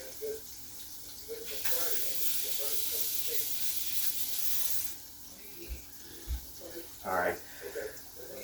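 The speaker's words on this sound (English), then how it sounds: "let me just wash my hand really quick" Tap water runs steadily as hands are washed in a home kitchen, a broad hiss lasting about three seconds, then stopping, followed by scattered clinks and soft handling noises.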